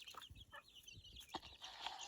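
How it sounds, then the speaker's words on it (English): A hen in a backyard chicken flock clucks in several soft, short bursts, faint and somewhat distant over a steady outdoor hiss. "That's some other hen."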